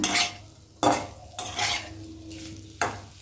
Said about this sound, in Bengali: মিডিয়াম ফ্লেমে মিনিটখানেক সময় ধরে কষিয়ে নিলাম